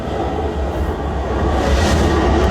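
A train ride heard in the film Collateral (2004): a steady, loud rumble of the carriage with low rolling noise throughout, no voices.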